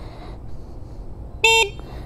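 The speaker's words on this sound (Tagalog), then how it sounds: "Meron siyang malakas na busina." A single loud electric horn beep from a Surron Light Bee X electric dirt bike, short and sharp, sounds once over a quiet background hum.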